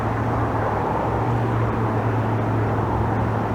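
A loud truck rumbles steadily past in a canyon, a dense low drone with a constant hum that stays near and continuous before cutting off abruptly at the end.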